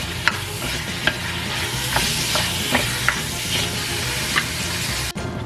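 Beef cooking in a pan and releasing a lot of juice without browning, a loud steady wet sizzle with occasional sharp utensil taps against the pan, close and without talk.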